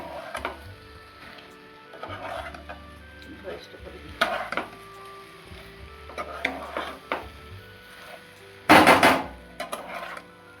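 Raw mango pieces and sugar are stirred in a pan over a lowered flame, with intermittent scraping and clinks of a spoon against the metal and one sharp louder clatter near the end, fairly quiet overall.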